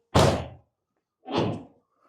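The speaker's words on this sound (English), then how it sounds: "Let's close this door." Two solid thunks from the door of a 1968 Ford F100 pickup being closed, a loud, close slam followed a second later by a softer second shut, with silence in between and no talking.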